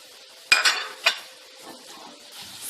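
Chicken with onions and spices in an oiled pan: a few sharp clinks and scraping stirs of a utensil against the pan over a faint background sizzle, no voices.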